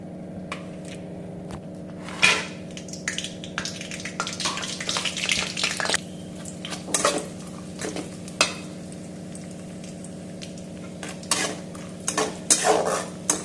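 Cashews and raisins roasting in ghee for rava kesari, with a metal spoon repeatedly scraping and clinking against the pan over a low, steady frying sizzle.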